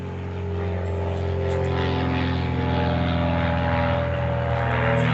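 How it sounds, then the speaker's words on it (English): A propeller airplane circling low over a house, its steady droning engine note sustained and fairly loud throughout with no voices. "As you hear the plane coming over again"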